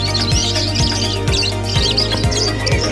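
Budgies at a pet market chirping and twittering continuously in a busy chorus, with a low rhythmic thumping repeating underneath, no speech.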